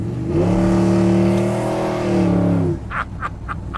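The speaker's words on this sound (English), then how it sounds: "We're gonna see how the accelerator works." Engine of a 1955 Chevrolet 150 revving hard, a loud sustained rising and falling roar lasting over two seconds that cuts off abruptly, followed by a few short bursts of noise.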